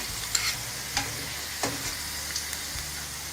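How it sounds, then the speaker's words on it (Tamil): Chicken vada frying in hot oil: a steady close sizzle with a handful of distinct clicks and scrapes as the fritters are turned, and no voices. "வடை திருப்பி போட்டுக்கலாம். பாருங்கள் நல்லா வெந்துடுச்சு."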